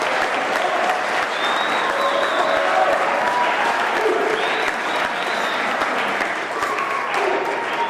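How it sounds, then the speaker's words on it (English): Steady applause from a room full of people, dense clapping that holds at an even level for the whole stretch, with a few cheers mixed in. "please give Bill a round of applause"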